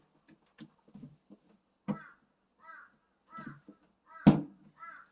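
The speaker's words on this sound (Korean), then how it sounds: "어머니 지금 까마귀 소리 들려요?" A crow caws several times outdoors at dawn in rural Korea during traditional meju making, harsh rasping calls at a moderate distance, spaced irregularly among faint scattered knocks and low murmurs.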